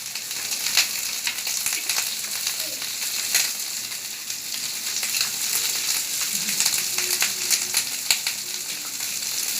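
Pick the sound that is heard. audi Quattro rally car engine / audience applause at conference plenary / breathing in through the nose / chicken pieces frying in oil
chicken pieces frying in oil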